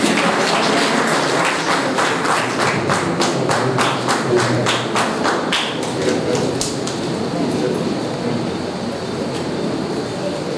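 Loud, dense applause fills the room at a Lions Club meeting, sustained rapid clapping that holds steady for several seconds before slowly thinning out.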